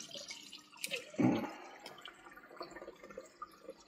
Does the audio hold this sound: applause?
no